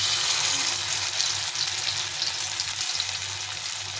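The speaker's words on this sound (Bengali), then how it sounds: "এখন তেলের মধ্যে আমি কোপ্তাগুলো বসিয়ে দেবো।" Banana flower koftas shallow fry in hot mustard oil in a wok, a constant dense sizzle close by with no other sounds.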